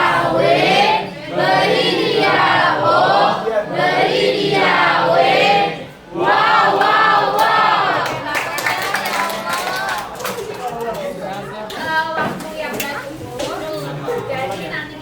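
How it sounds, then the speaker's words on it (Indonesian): Classroom pupils perform a rhythmic 'tepuk wow' clapping chant for a group, chanting loudly together in unison with claps, then it trails into scattered clapping and chatter. "Kita kasih tepuk wow untuk kelompok 5."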